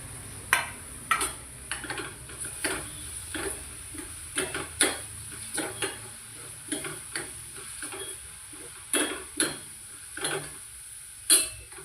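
Onion and tomato sautéing in a pan under a low sizzle, with repeated spatula taps and scrapes against the pan at an uneven stirring rhythm, close and moderately quiet.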